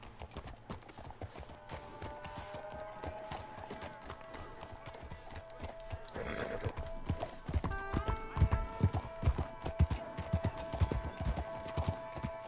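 Steady horse hooves clip-clop at a walking pace in the video game Red Dead Redemption 2, growing heavier midway, over a soft sustained musical drone.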